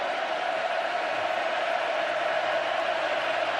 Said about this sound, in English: This crowd doesn't stop.